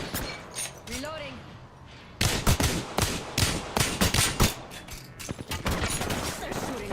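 In Apex Legends, enemy gunfire hits the player in rapid, loud bursts of automatic shots and impacts, with a quieter lead-in before the shooting starts.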